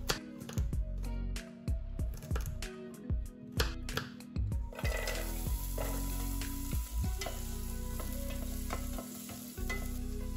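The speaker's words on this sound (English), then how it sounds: "Put the pot on medium heat and add olive oil. Cut the carrots and put them into the pot." Carrots sizzle and crackle in olive oil in a pot over medium heat, with repeated stirring scrapes and clatters early on, then a steady close frying hiss.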